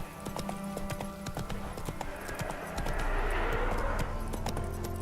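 Roach, a horse in The Witcher 3, trots along with a quick, regular clip-clop of hooves, close and clear over a low ambient rumble, with a brief soft snort or whinny mixed in.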